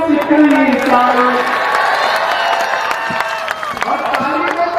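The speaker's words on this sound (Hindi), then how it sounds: "दिल्ली तक जाए आपकी तालियों का शोर" Large political rally audience in India clapping and cheering continuously, a dense wash of applause with scattered shouts and whoops, loud and sustained throughout.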